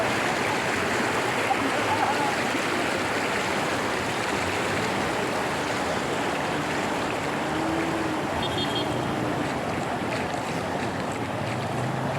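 Water running over a road makes a steady broadband rushing wash, continuous and fairly loud throughout, with wind-like noise and no clear talk.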